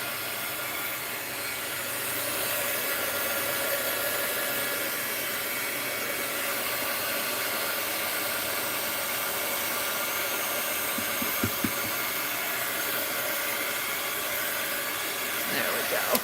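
A heat gun drying glue on an art journal page, a steady airy blowing hiss that runs throughout at moderate level, with a few faint clicks near the end and no talking.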